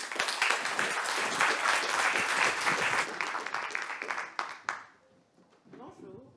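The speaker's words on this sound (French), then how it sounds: "On l'applaudit." Audience applause at a conference showcase event, dense steady clapping from a crowd close by, tapering into scattered claps and then quiet.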